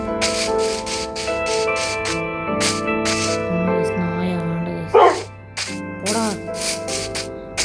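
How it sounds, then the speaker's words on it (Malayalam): Two dogs barking inside a video game, a few short sharp barks near the end over continuous game music and ambience. "രണ്ട് നായ"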